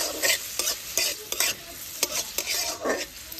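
Grated coconut stirred and frying in hot ghee and oil, with repeated scraping stirs over a steady close sizzle, no voices.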